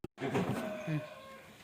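A cow lets out one long, low moo close by. The call holds steady, then tapers off at the end.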